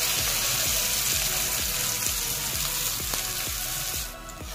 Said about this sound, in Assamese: এতিয়া থুতুলিয়াই লোৱা ৰচুনখিনি দি দিওঁ।